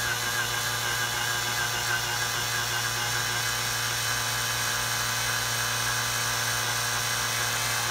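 A drill turns at low RPM, drilling out a broken bolt, making a steady whining grind that holds a constant pitch throughout, close and loud, with no talk over it.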